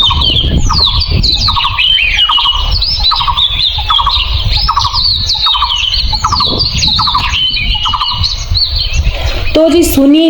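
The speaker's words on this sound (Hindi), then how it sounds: "हमें जगाती है यहाँ पर चिड़ियों की चहचहाट।" Birds chirp and squawk in the early morning in a mountain village, with repeated bright calls in a steady rhythm, close and loud throughout.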